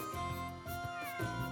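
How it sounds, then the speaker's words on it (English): A cat in the video game Suikoden V meows several times in quick succession, clear and close, with game music or ambience continuing underneath. "Ooh, cat."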